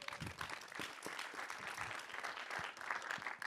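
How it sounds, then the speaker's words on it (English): An audience at a tech panel event claps a round of applause for a panelist, a moderately loud, dense patter of many hands with a few louder individual claps standing out. "let's give her a round of applause."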